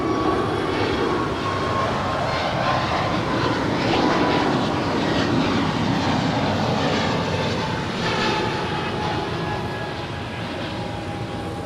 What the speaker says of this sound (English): It's an A320 landing here on the south side.